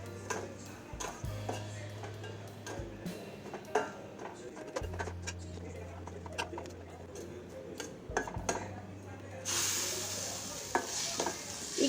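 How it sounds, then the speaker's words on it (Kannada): Dry masala frying with softened onions in a pan for egg curry, with repeated scraping and stirring clicks against the pan over a low sizzle, and louder sizzling toward the end. "ಒಣ ಮಸಾಲ ಮಾಡ್ಕೊಂಡಿದ್ವಲ್ಲ ಅದು ಹಾಕಿ ಫ್ರೈ ಮಾಡತ್ತೀನಿ"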